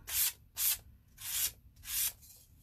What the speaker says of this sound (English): Grab our sandpaper and just going to do the edge just a tiny bit.